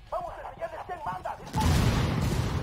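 A loud blast with rumbling debris noise erupts suddenly midway through Ghost Recon Wildlands, a tactical shooter set in Bolivia's open-world countryside, following a stretch of a voice.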